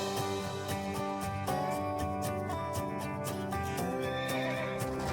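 A horse whinnies and neighs in a loud, drawn-out call with wavering pitch, heard close with faint hoof clip-clop beneath, no talking.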